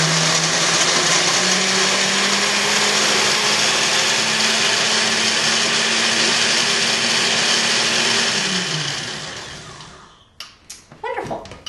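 A blender whirs loud and steady, mixing a sauce for about eight seconds, then winds down and stops, followed by a few brief clatters of handling.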